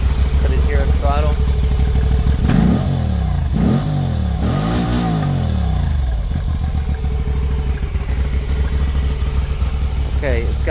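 A 2023 Moto Guzzi V85TT motorcycle with a single exhaust idles close by, then revs sharply several times in quick succession, each throttle blip rising and falling loudly before settling back to a steady idle.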